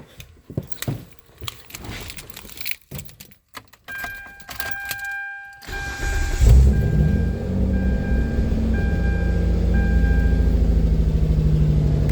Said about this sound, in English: Alright, so the car is running after the high idle came down